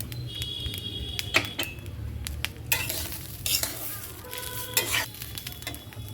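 Lentils and vegetables stirred in a pot for an oil-free one-pot dish, with a spoon scraping and clinking repeatedly against the metal over a low sizzle, up close and without talk.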